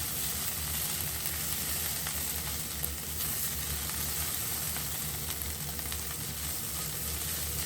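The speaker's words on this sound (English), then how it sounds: "once I start adding the chili and the garlic" Chili and garlic fry in oil in a pan while making khatti dhal, a continuous steady sizzle heard up close at moderate volume with light stirring, no talking.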